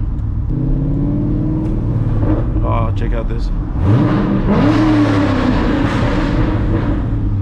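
A 500 hp C6 Corvette accelerates hard with its tires spinning, the engine rumbling loud and close and rising in pitch as it revs, while people talk in the car over it.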